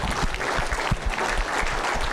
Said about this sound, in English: give Brian Schmidt a round of applause.